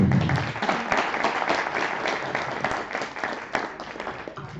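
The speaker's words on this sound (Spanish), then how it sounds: "muchísimas gracias, y un aplauso muy grande" Warm, full applause from the audience at a public servants' forum on gender, many hands clapping steadily with a few sharper claps standing out.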